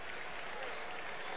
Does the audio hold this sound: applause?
yes